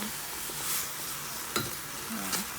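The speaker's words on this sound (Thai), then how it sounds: "น้ำเดือดแล้วนะคะทุกคนเราก็จะเอา ผักนี่ลงต้มเลยนะคะ" Chaya (Mexican tree spinach) leaves drop into bubbling boiling water for soup with a few soft splashes and clinks over a steady sizzling hiss; no one speaks.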